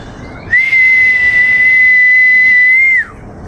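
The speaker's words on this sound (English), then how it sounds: "Let me do the whistle, because they do respond to that." A person whistles a single long, steady, piercing note for about two and a half seconds, loud and close, with a slight dip at the end, to call garden birds outdoors.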